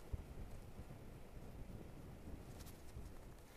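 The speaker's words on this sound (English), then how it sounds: "as you can probably tell, it's quite windy" Steady wind blowing outdoors on a very windy day, a constant low rumble and buffeting against the microphone, moderately loud and continuous without any voices.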